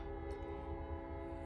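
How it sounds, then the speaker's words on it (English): A passing train sounds a sustained horn or whistle, a steady tonal drone at moderate distance under a low rumble, with no talking. "That's a train coming by."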